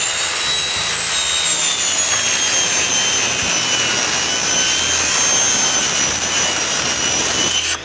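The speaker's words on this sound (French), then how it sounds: "les cœurs de porte sont coupés avec une lame de scie à métal" A constant loud high-pitched whine of a power saw with a metal-cutting blade cutting door cores, steady and unbroken throughout, close by.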